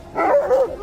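A Caucasian Shepherd dog gives one short, fairly loud bark or yelp that rises and dips in pitch, close by and heard alone.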